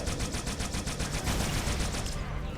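Needler gunfire in Halo 2, a rapid rhythmic stream of bright needle shots firing continuously for a couple of seconds before cutting off, over game noise and faint voice.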